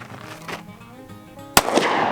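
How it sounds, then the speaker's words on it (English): A single sharp, loud pistol shot cracks out close by after a quieter stretch, followed by ringing noise, from a .22 LR or 9mm handgun on a range. "let's go ahead and pop off a couple rounds and just see how she feels in recoil"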